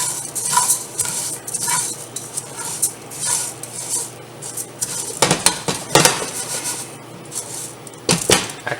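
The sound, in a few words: stirring jook in a pot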